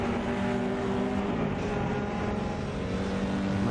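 Engine of a 1950s race car in the Assetto Corsa racing game, a steady droning roar holding at one pitch, with shifting harmonics under a continuous wash of track noise, loud and close throughout.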